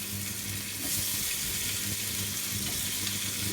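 Tomatoes squeezed of their juice hiss and sizzle in hot oil with softened garlic for an egg gravy, a steady close frying crackle with no talk.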